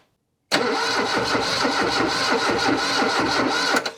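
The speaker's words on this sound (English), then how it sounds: "putting on the ignition and turning the engine" After a moment of silence, a Lada Niva engine cranks with the ignition on, a loud, rhythmic churning that continues steadily without starting, then cuts off near the end.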